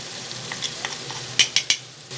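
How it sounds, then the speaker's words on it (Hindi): Vegetables frying in a pan for a spicy red-sauce pasta are stirred and mixed, with a soft sizzle underneath and a few sharp scraping clacks of the spoon against the pan near the middle. "अब हम इसे अच्छे से मिक्स कर लेंगे"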